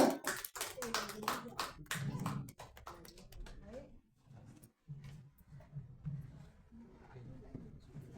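Clapping from a small crowd at a celebratory gathering honouring a guest, a dense burst of claps up front that thins out and fades, then someone speaking over the quieter room.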